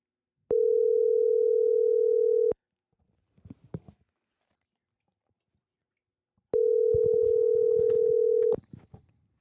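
Telephone line tone while calling a guest into a recorded conversation: two long, steady, loud beeps about two seconds each, separated by a quiet gap with faint rustling.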